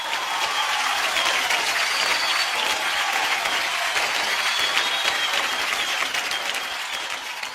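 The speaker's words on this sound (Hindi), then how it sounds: "ये तालियां उसके लिए नहीं बज रही है," An audience gives sustained applause during a singing performance on a talent show, a thick, continuous wash of clapping at close range that fades slightly at the end.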